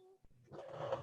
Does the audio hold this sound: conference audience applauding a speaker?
no